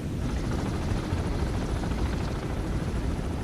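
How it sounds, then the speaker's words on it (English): Helicopter rotor noise in the submarine video game Cold Waters, a steady broadband thrumming drone that holds unchanged throughout, fairly loud and continuous with no talking. "There's the helicopter."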